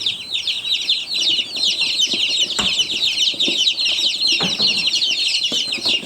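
Dense, continuous high-pitched peeping from a box of day-old baby chicks just delivered by mail order, many overlapping chirps filling the whole stretch at close range with a few soft thumps and rustles beneath.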